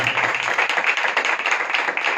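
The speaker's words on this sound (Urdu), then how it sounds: "خداوند کے جلال کے لیے ہم زور زور تالیاں بجائیں گے۔" A congregation claps loudly and steadily in a dense, continuous wash of hand claps, with no voices over it.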